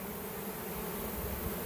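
A dense swarm of honey bees buzzes close by in a steady, unbroken drone throughout, with no voices.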